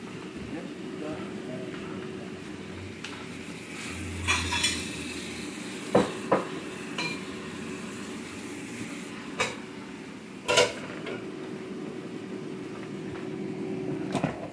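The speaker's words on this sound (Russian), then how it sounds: "Сейчас теперь жарим." Shrimp sizzling steadily in a pan, with occasional sharp clinks and scrapes of a utensil against the pan and a few louder knocks.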